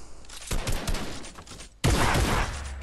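Rapid video game gunfire comes as a burst of close, loud cracking shots, a brief lull, then a second, louder volley that trails off into rumbling noise.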